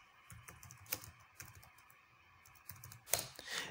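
Quiet, rapid keystrokes on a computer keyboard while entering switch configuration commands, with irregular clicky taps through the passage and a sharper key strike near the end, no talk.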